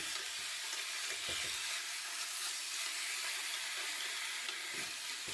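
Beef frying in a home kitchen pan, its juices giving off a steady, loud broadband sizzle that holds unbroken and close throughout, with a few faint stirring clicks.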